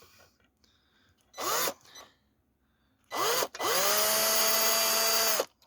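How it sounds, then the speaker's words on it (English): A slightly bent power drill pre-drilling holes during kitchen drawer assembly: a short close whine, a pause, then a brief burst that runs straight into a long, loud sustained spin before cutting off. "that drill looks bent, but it's still doing the job"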